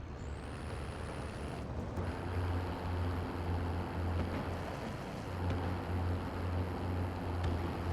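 Steady vehicle engine drone in Call of Duty: Warzone, a loud continuous low rumble with a whining tone on top and slight surges in revs throughout.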